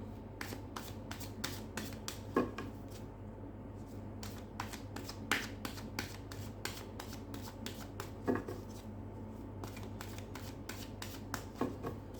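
Tarot cards being shuffled by hand, a steady run of crisp riffling and slapping bursts at close range, with no talk over it.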